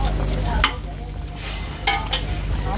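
Stew of about six ducks being stirred in a giant pot, with scraping, clinking stirs and a faint sizzle-like bubbling under steady background noise, a couple of sharper strokes standing out.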